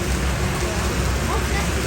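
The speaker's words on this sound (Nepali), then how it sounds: "यसरी पानी परेको छ" A dense, continuous roar of heavy rain in Pokhara, with drops drumming on nearby surfaces at an even, unbroken loudness throughout.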